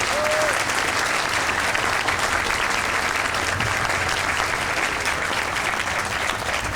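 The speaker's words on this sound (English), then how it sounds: "can we have us one big round of applause for all of our distinguished speakers?" A large audience applauds distinguished speakers at the opening ceremony of the Ted Stevens Arctic Center, a steady, dense wash of clapping that holds at full strength for several seconds with no voices over it.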